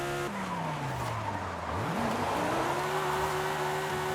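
A car in the Forza Horizon racing game slides through a turn with tires squealing over a loud, steady engine drone whose pitch dips and then climbs again.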